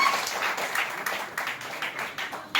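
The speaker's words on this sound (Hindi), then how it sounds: "एक बार जोरदार तालियों से इनका स्वागत करें" A crowd at a student organisation's district workers' conference gives a loud, sustained round of clapping to welcome a newly named city president, dense and uneven throughout with no speech over it.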